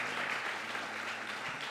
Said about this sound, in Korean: 한번 박수 한번 쳐주시기 바랍니다